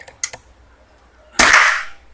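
An Immortal Flash Gen 2 toy blaster fires: two quick sharp pops close together near the start, then after a pause a louder burst of snappy, hissing discharge that fades out.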